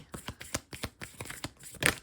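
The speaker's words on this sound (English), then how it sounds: "I take my shuffling very seriously." A deck of tarot cards shuffled up close, producing repeated soft riffles and taps in an even rhythm, with a brighter snap near the end and no talking.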